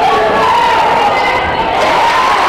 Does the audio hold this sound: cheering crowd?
yes